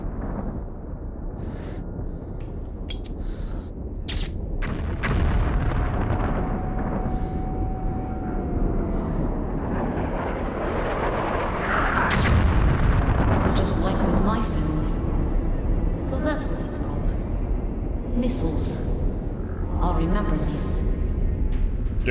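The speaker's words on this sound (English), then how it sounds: "Explosions." Explosions in Metro: Last Light rumble as deep booms and roaring blasts over a dense background, with debris-like crackle and someone talking over parts of it.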